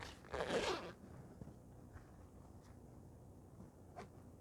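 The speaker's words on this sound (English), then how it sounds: "I'm going to zip up the bag" A zipper on a backpack bag is pulled shut in one quick, close rasping stroke lasting about half a second, followed by quiet room tone with faint small handling clicks.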